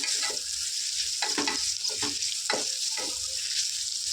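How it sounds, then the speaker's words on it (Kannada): Onion, chilli, ginger and garlic frying in a pan: a constant close sizzle with intermittent scraping stir strokes, no voices. "ಹಸಿ ವಾಸನೆ ಹೋಗೋವರೆಗೂ ಚೆನ್ನಾಗಿ ಫ್ರೈ ಮಾಡ್ಕೊಳ್ಳೋಣ."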